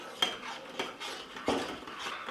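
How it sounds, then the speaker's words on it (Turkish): A spoon stirring homemade salep as it cooks in a pot, with a few distinct scraping and clinking strokes against the pot, close and quiet. "Şimdi bunları karıştırarak pişiriyorum"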